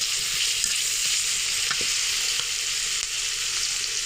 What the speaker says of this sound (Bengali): আমরা একটা কড়াইতে তেল দিয়ে পেঁয়াজটা ভেজে নিব।